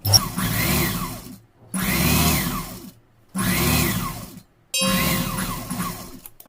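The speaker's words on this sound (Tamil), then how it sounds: "இந்த பீஸும் நம்ம இதே மாதிரி தையல் போட்டுக்கலாம்" An electric sewing machine stitches a folded cloth piece for a churidar pant bottom, running in four steady whirring bursts separated by brief pauses, close and fairly loud.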